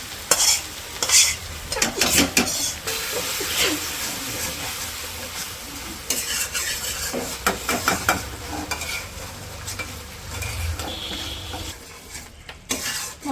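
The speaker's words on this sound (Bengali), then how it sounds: "মশলাগুলো কিছুক্ষণ কষাই নিচ্ছি, কষানো হয়ে গেছে" Ground spices sizzle and fry in a hot pan with salt, coriander, cumin and chili powder, a spatula scraping and stirring them in repeated strokes, with steady hiss underneath and occasional clinks of metal on the pan.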